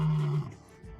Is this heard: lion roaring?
yes